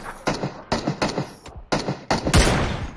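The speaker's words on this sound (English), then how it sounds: "Double headshot with a VSS?" VSS rifle gunfire in a shooter video game, several sharp close bursts of suppressed shots in quick succession with short gaps, the last burst longer and louder, no talk.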